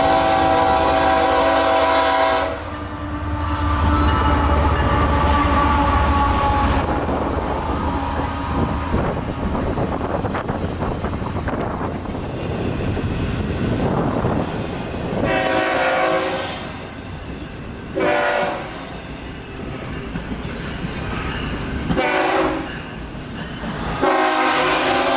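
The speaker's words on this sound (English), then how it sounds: "A northbound grain train and a southbound intermodal train had set their meet right in Crowley." BNSF northbound grain train and southbound intermodal freight meeting at Crowley, Texas at night: loud sustained horn blasts over the rumble and rattle of passing railcars, with wheel clatter continuing throughout.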